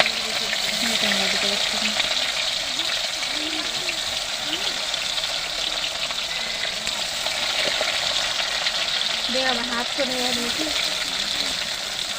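Onions fry in a pan with a continuous, close sizzle and occasional stirring scrapes, while a person talks over the cooking.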